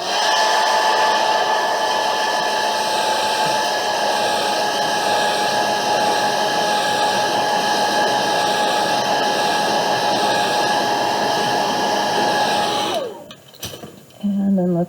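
A hair dryer blows on a watercolor landscape painting, a loud steady whine that runs nearly the whole time before it cuts off abruptly near the end and gives way to a few brief handling noises.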